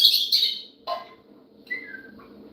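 Pet lovebird parrots in their enclosure give a few bright, sharp chirps and short squawks in separate bursts. The calls are close and clear over a quiet background, with no talking.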